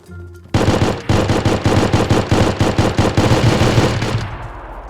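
Sustained rapid automatic gunfire in the video game DayZ, loud and close, with a dense rattling burst of shots that runs for several seconds before trailing off.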